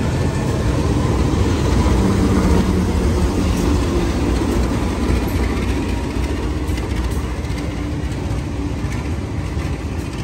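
Matarmaja passenger train passing in Indonesia, a loud, continuous rumble of wheels and railcars that runs steadily throughout with no voices.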